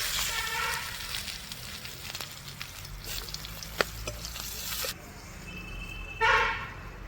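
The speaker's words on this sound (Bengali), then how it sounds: "এই তেলের মধ্যে কটা পাঁচফোড়ন দিয়ে দেবো, একটু কুচনো লঙ্কা আর পেঁয়াজ" Panch phoron spices, chopped chili and onion sizzle in hot oil with a steady bright crackle and hiss, brief stirring clatter, and a louder burst of frying near the end.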